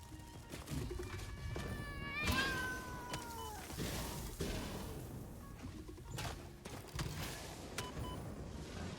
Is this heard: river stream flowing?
no